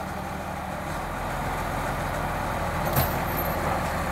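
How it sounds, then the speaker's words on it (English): A D6 bulldozer engine drones steadily while pulling an 8 ton timber truck, a low, continuous rumble at moderate distance with a brief knock or clunk partway through. "Let's experience the power of a dozer right now."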